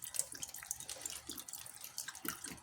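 Tap water running steadily while something is washed under it in a kitchen, a close, continuous splashing and trickling flow with no voices.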